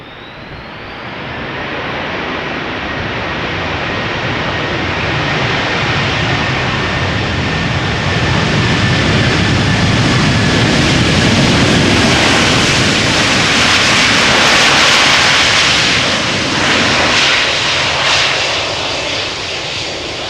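A jet airliner lands at Schiphol Airport, its engine roar swelling from moderate to loud and peaking near the end before easing off, a long continuous rush with no voices.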